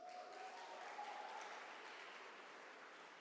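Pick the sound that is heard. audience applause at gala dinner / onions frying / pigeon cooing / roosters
audience applause at gala dinner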